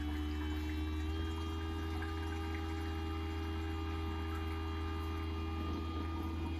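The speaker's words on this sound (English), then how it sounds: "Now it's draining and winterizing the drains" Antifreeze draining through a motorhome washer while it is winterized: a steady, quiet pump hum with a low mains drone and a faint liquid flow running continuously without pause.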